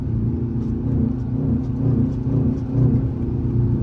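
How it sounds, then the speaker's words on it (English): Deep, steady V8-like exhaust rumble from a nearby Dodge Charger, idling with slight surges in loudness and no talking. "It just sounds like a monster exhaust"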